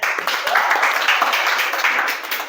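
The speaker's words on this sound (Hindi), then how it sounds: "प्रिया के लिए तालियां हो जाए" Classroom of students applauding a classmate, a dense burst of clapping from many hands, steady and fairly loud for a couple of seconds.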